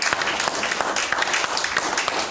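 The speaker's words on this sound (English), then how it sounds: "give the Lord a hand clap this morning." A church congregation claps steadily and densely, many hands together at a brisk, even pace, filling the space without any voices standing out.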